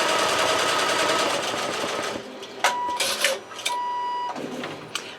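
An embroidery machine stitching black initials onto a tote bag runs with a steady dense whir, then stops and gives several short electronic beeps signaling it has finished.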